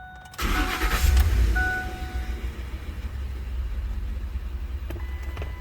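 A 2009 Ford F-150 pickup with about 250,000 miles, its engine sounding tired, cranks and catches, surging loudly, then settles into a steady low idle rumble close by.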